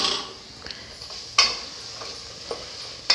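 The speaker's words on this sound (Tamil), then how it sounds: "சிம்மிலேயே வச்சு நல்லா வதக்கி விடுங்க" Mint and coriander sautéed over a low flame in a pan for egg biryani: a soft, steady sizzle with a few sharp spatula scrapes and taps against the pan, close by and without speech.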